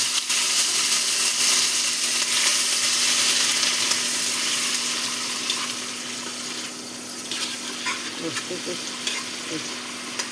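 Ginger paste and tomato paste fry in hot oil with sugar, giving a loud, steady sizzle that gradually softens, with faint stirring clinks near the end and no talk.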